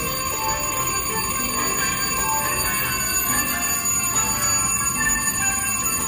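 Jackpot bell on a rare three-reel slot machine rings steadily and loudly for the whole stretch, a continuous metallic ringing over bright electronic casino tones, with no talking.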